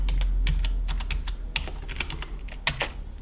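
Keystrokes on a computer keyboard as an nslookup command is typed into a Windows PowerShell or command prompt, a steady run of close, crisp clicks at an uneven rhythm, with no talking.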